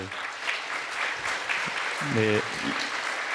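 Congregation applauding in a church during a New Year's Eve service, a steady broadband patter of many hands that fills the room, with brief voices rising over it near the end.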